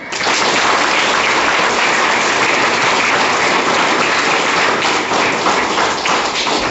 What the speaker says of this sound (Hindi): इस पर हम चाहेंगे कि आपकी तालियां जोरदार बजनी चाहिए।